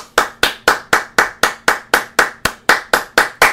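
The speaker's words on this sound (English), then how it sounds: "I'm going to be clapping my hands" Hands clapping in a steady, even rhythm, about three to four sharp claps per second, close and loud with a short ring after each, no voices heard.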